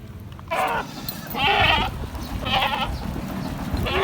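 Goats bleat loudly and repeatedly close by at a goat market in Blang Jrun, Aceh, several long wavering cries over a busy, noisy crowd background.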